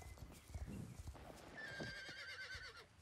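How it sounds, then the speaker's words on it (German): A horse in the Star Stable video game gallops with quick thudding hoofbeats, then lets out a long, clear whinny near the end, fairly close and without talk over it. "Den Jagdgalopp mag so, wenn die Pferde sich so richtig den Hals strecken und dann so losrennen"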